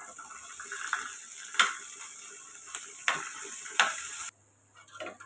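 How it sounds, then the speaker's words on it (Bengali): Onion and chili fry in a pan with a soft, continuous sizzle, broken by several sharp scraping strokes of a spatula stirring them before the frying sound drops away. "এখন এটার ভিতরে পেঁয়াজ মরিচ দিয়ে দিব, একসাথে ভেজে ফেলাবো।"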